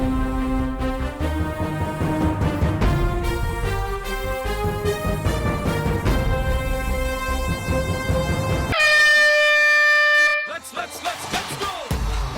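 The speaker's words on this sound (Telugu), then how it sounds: "హార్న్ వస్తుంది, హార్న్ తర్వాత స్టార్ట్ చేయాలి" A loud horn blares on a television game show, cutting in sharply as a steady tone after a stretch of music and cheering, then dropping away into scattered noise.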